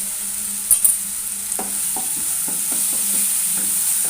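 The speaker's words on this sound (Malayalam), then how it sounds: "അതൊന്ന് നല്ലവണ്ണം മൂപ്പിച്ച് എടുക്കാം. അതിലേക്ക് നമുക്ക് കുറച്ച് മഞ്ഞൾപ്പൊടി ഇട്ട് കൊടുക്കാം." Spices frying in a pan as turmeric powder goes in, a steady soft sizzle with a few stirring clicks and scrapes near the start and a series of regular light taps through the rest of the clip.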